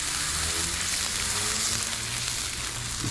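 Tuna sears on a Blackstone griddle with a steady, close, even sizzle that holds level throughout, with no voices.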